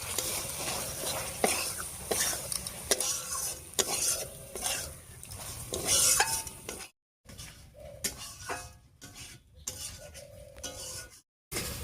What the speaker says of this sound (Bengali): সর্ষে আর লঙ্কা বাটা দিয়ে একটু কষিয়ে নেব